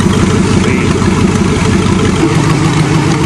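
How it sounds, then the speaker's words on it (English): A tuned-up old Chevrolet car engine running loud and close as it warms up, a steady rough idle with a dense low rumble and no clear rev surges. "I'll warm it up a bit more."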